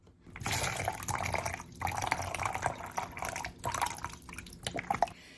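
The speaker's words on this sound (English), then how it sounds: "the next sound effect is going to be the pouring of the water in the cup" Water poured into a cup as a homemade sound effect, a close, bubbly trickling pour in several bursts with brief pauses between, clear and alone without talk.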